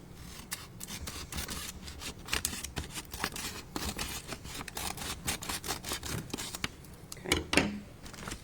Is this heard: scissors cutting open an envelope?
yes